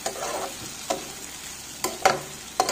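Potato bhujia, a dry aloo sabzi, is stirred in an oiled pan, with a low background sizzle punctuated by a few sharp spoon scrapes and knocks against the metal, close and unaccompanied by speech.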